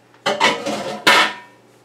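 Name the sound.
drained apples being put back into a pan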